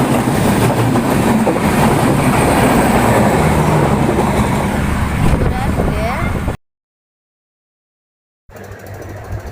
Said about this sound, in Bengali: আর সামনে মনে হচ্ছে একটা ট্রেন আসতেছে